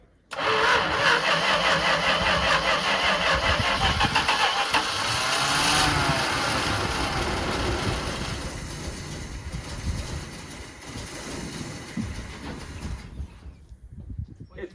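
A Dodge truck's first-generation Cummins diesel engine cranking loudly and continuously for about thirteen seconds, close by, with the churning fading slightly toward the end.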